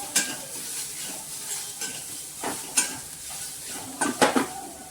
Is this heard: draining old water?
no